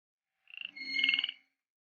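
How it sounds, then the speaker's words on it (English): A squeaky frog in the Milkmaid of the Milky Way game gives one short, high, chirping croak in two quick bursts, clear and close against silence. "Squeaky frog. We need a squeaky frog."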